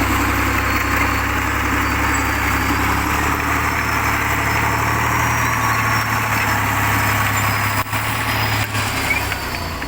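A T-150 crawler tractor's heavy diesel engine, about 10 years old and burning oil, idles steadily with a low, even rumble and chugging, loud and close, with no talking.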